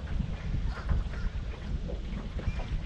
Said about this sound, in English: Quite windy, as I'm sure you hear.